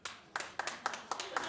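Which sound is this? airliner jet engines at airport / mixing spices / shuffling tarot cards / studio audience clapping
studio audience clapping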